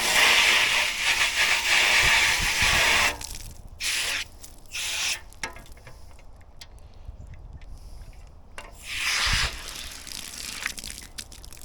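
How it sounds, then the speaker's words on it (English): A water hose sprays and rinses out a sugarcane juice machine, loud hissing gushes in several bursts with quieter pauses between, close by and with no talking. "Hose everything out good."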